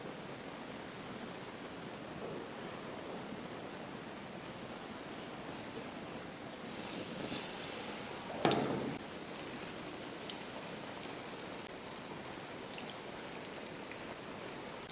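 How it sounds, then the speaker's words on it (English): Battered fish fries in oil with a soft, even hiss that stays constant, faint and fairly distant, with one brief louder crackle partway through. "and then I am going to fry it"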